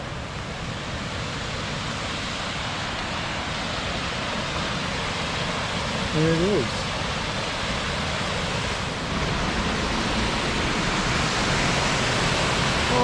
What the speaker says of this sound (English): So we're here, Mosquito Falls.